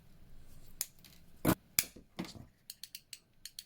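Cutters snip off the soldered legs of SMD LEDs during a Clio 197 RS interior light conversion, giving a few sharp close clicks followed by a series of lighter ticks.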